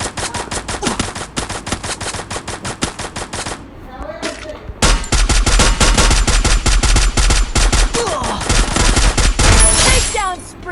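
Rapid automatic gunfire from the Free Fire video game rattles out loud and close in dense bursts, pauses briefly, then resumes as a heavier, sustained volley.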